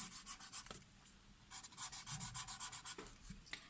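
A pencil colors in a first-grade maths workbook, making quick rhythmic scratchy rubbing strokes in bursts, close and fairly quiet, with no talking.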